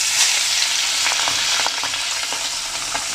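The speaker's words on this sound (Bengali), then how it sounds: "তেলটা গরম হয়ে গেলে আমি দিয়ে দিই। দেখুন আমার গরম হয়ে গেছে। আমি এখন একটা একটা করে মাছ দিয়ে দিই।" Pabda fish frying in hot oil in a pan, a steady loud sizzle with crackling pops and a few stirring scrapes, close and continuous with no talking.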